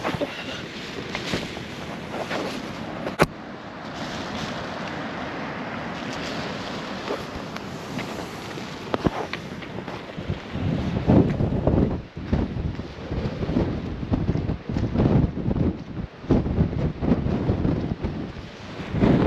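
Strong, gusting wind buffets the microphone at a campsite during Storm Floris at 7 a.m., a continuous roaring rush with louder surges and flapping bursts, close and unbroken, no speech.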